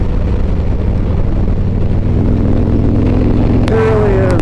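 Harley-Davidson Road King motorcycle with a likely stage 1 setup, riding with a steady, loud engine drone throughout and a brief higher whine near the end.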